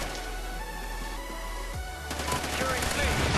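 Assault rifle gunfire in Call of Duty Ghosts, a multiplayer shooter, with bursts of shots growing louder and denser toward the end over game ambience.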